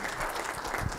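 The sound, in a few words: audience applause for the MC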